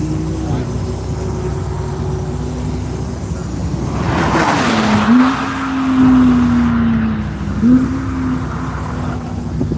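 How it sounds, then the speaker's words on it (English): Porsche race car on a closed circuit lap during a One Lap of America session at NCM, engine note rising and falling through gear changes, swelling loud as it passes near mid-clip, with steady engine drone throughout. "Rob Bowen driving that Porsche a little bit faster than he drives his John Deere tractors on his farm down in Georgia."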